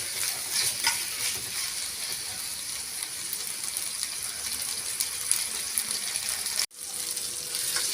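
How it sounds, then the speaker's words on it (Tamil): Tomatoes stirred into a hot pan with ginger and garlic sizzle and fry steadily, a dense crackling hiss with scraping stirs, broken by one brief dropout near the end before the frying resumes. "நல்லா கலந்து விட்டுக்கலாம்."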